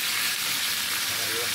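Oil sizzles and crackles loudly and continuously in a hot pan as galunggong fish fry, a dense bright hiss throughout.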